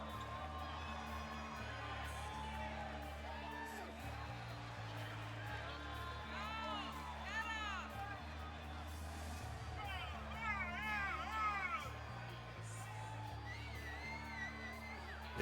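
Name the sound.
crowd of fans cheering for wrestler Goliath entering ring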